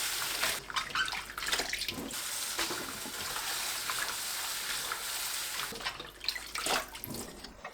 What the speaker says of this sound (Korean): 물에 2번 헹굽니다.